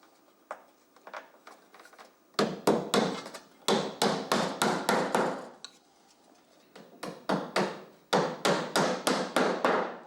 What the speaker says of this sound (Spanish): Terminamos de fijarlo con las grapas